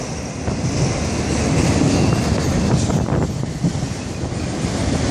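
An FEC freight train rolls past close by with a steady, loud broadband rumble of wheels and wagons, mixed with wind noise on the microphone and no talk.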